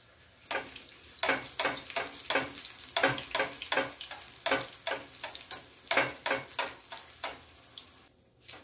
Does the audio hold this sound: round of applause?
no